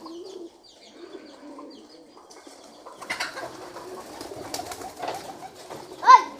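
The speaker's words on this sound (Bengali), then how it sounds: "এই যে কবুতর এখন নামতেছে, আস্তে আস্তে নামতে থাকবে" Pigeons cooing at a village house as they come down to eat leftover rice, with chickens nearby: soft repeated coos and a few chirps, fairly close, rising into livelier calls and fluttering toward the end, with no talking.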